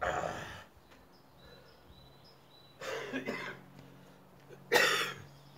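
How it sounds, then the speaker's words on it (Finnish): Two separate coughs from a person during a light workout, each a short, rough burst, spaced a couple of seconds apart, heard fairly close in a quiet setting with faint background sounds. "Köhäkin vaiva."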